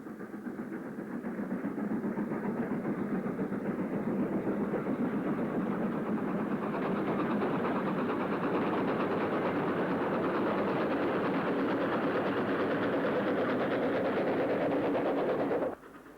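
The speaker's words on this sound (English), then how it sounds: "A Gloucester to Birmingham stopper climbs with just 4 coaches, banked by a 9F" Vintage footage of a steam train with four coaches climbing the Lickey Incline near Bromsgrove, banked by a 9F locomotive: a steady, loud, sustained labouring roar and rumble that holds for about fifteen seconds before cutting off abruptly.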